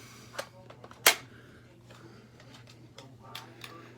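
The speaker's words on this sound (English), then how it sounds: "Flip the clip open." The magazine clip of a Ryobi 18-volt 18-gauge battery-powered brad nailer being flipped open, a single sharp plastic snap preceded and followed by quieter clicks and handling rattles, close by with no speech.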